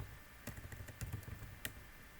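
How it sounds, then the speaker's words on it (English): A command typed on a computer keyboard for a network router lab, a handful of sparse, faint key clicks spread over a couple of seconds against a low steady hum. "If I type show IP route,"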